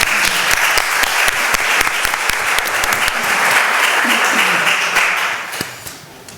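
Sustained applause from a town board meeting audience thanking the Sheriff's Department, dense steady clapping that holds for several seconds and then tapers off near the end.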